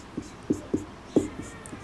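Chalk or marker strokes on a classroom board during an English grammar lesson, a handful of short scratchy taps and squeaks spaced irregularly, close and fairly quiet with no talking.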